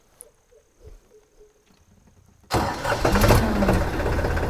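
A tractor engine cranks and catches at once, jumping from a quiet outdoor background with faint insects to a loud, steady diesel rumble that continues to the end.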